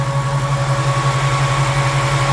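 A 6.4-liter Hemi 392 V8 idles with the AC running after head gasket and water pump replacement, a loud, steady, close-up rumble with a continuous whine and even pulsing throughout.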